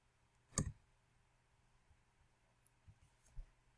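A computer mouse clicks once sharply to add a comment on a classmate's post, followed by a few fainter taps and handling noises in an otherwise quiet room.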